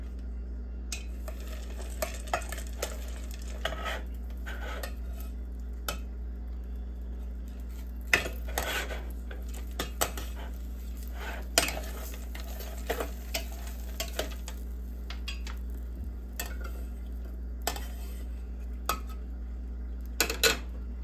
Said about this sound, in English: I'm going to chop down this butter because it's too chunky